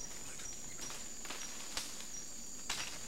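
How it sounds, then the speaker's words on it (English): A steady, high drone of emperor cicadas hums continuously in a forest at dusk, faint but unbroken, with a few soft crackling taps of breaking branches over it. "the forest is filled with the sounds of emperor cicadas and breaking branches"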